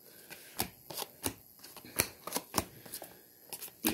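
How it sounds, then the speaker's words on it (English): Tarot cards being shuffled by hand, close and quiet, a series of crisp riffling flicks and slaps in uneven rhythm with no talk. "after I shuffle all these cards all the way through"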